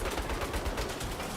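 Rapid turret gunfire in the Saints Row video game rattles in a dense, continuous burst of fast repeated shots, fairly quiet and unbroken.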